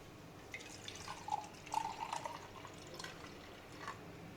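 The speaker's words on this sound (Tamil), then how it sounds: "இந்த கப்பில் 1/2 கப் தண்ணி ஊற்றிடலாம்." Half a cup of water poured into a measuring cup in a home kitchen while making poori dough, a soft, quiet trickle with a few faint drips and no talking.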